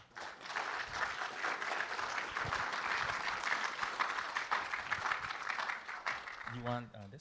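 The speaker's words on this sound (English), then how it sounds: "let's give a round of applause to Tomas Diaz." Sustained audience applause at a handmade craft event, a dense steady wash of many hands clapping, fairly distant, ending with a brief voice speaking.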